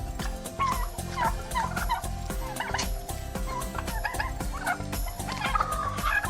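Several turkeys gobble repeatedly in bursts, close by, with clucking fowl mixed in over a constant farmyard background.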